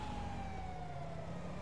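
An ambulance siren in the video game GTA 5 wails in a steady, continuous tone over low rumbling traffic noise, filling the whole moment without any talk.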